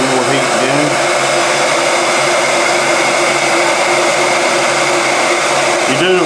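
Heat gun blowing loud and steady to soften plastic T-tracks on an E11 blaster build, a constant close roaring whoosh throughout.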